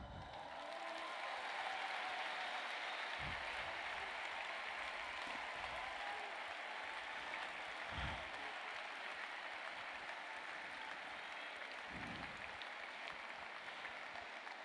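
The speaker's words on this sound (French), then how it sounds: "Applaudissements." An audience at a live stage talk in Paris applauds in a steady, dense wash of clapping that holds for the whole stretch, with a few heavier thumps now and then and no voices over it.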